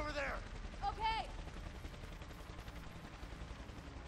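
Gunfire in the video game A Way Out: a short burst of shots at the start, then a lower rumbling of continued fire and ambience trailing off.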